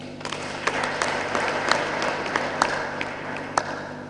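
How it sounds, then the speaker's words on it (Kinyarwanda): A church congregation applauds newlyweds at their wedding, a steady, dense wash of many hands clapping, with sharper individual claps popping out now and then throughout. "Reka nsabire iteraniro ryose ribampera amashyi."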